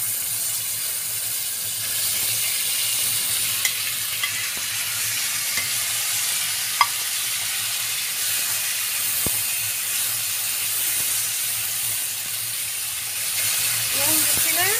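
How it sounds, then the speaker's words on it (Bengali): Radish, potato and ridge gourd sizzle together in hot oil in a pan, a steady, loud hiss with occasional small pops that runs continuously without letting up. "এই তেলে আমি এখানে আছে মূলো, আলু আর ঝিঙে, এই তিনটাই আমি একসাথে দিয়ে দিচ্ছি"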